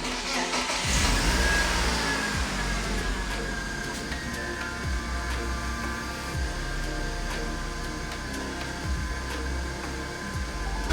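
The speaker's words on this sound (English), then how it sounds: "I'll start the car now and see if there are any changes in the idle or anything." A BMW E36 being checked for vacuum leaks cranks and fires up, revs briefly, then settles into a steady idle with faint irregular dips, close and alone without talk.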